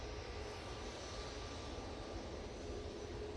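A Ryanair airliner taxiing back to its stand at Manchester Airport, heard as a steady, continuous engine roar with broadband rumble, constant and moderately distant, without any talk.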